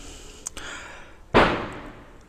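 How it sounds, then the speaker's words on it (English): A single sharp Diwali firework bang bursts out of quiet background noise, picked up by a BM 800 microphone, with a couple of faint distant pops before it and a fading rumble after. "you can hear the fireworks in the background"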